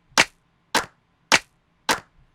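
Two layered clap samples in a beat, four sharp snappy hits evenly spaced, crisp and dry, alone with no other sound.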